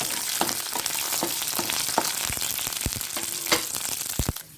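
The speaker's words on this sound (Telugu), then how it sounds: "ఎండుమిరపకాయలు, గుప్పడి పలుకులు కూడా వేయించుకున్నామండి" Dry red chillies, peanuts and a little urad dal frying in oil for okra fry, a constant close sizzle with scattered ladle scrapes and knocks against the pan.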